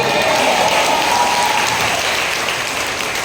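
A church congregation at a Filipino worship gathering claps together in a full, dense burst of applause that stays loud throughout, easing off only slightly toward the end, with no voices over it.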